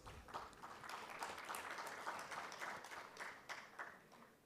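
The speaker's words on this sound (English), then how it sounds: "A big round of applause for our panelists." Faint, steady clapping from a conference audience greeting the panelists at a pensions event, continuing evenly throughout.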